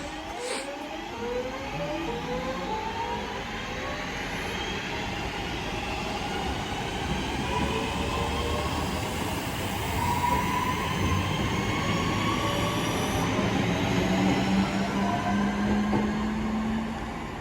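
Northern train 323239 at a station on a service to Stoke-on-Trent, a steady rumbling, whining electric unit moving through the platform with rising and falling motor tones, loud and continuous throughout with no talk.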